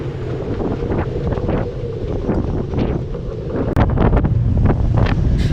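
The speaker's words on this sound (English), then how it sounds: "waves are incredibly chaotic" Rough sea waves in the Tasman Sea off New Zealand churn and crash continuously while strong wind roars and buffets the microphone.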